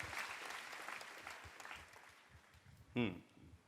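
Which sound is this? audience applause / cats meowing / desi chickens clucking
audience applause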